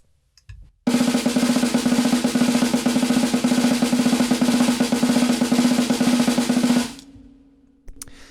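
Rapid, even single-stroke drum strokes, right-left alternating, played continuously for about six seconds, loud and close, in a steady rhythm, then stopping.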